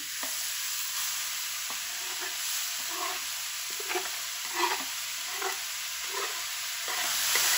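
Pumpkin pieces frying in oil in a pan for kaddu barfi, a steady soft sizzle broken by repeated scraping stirs, with no one speaking.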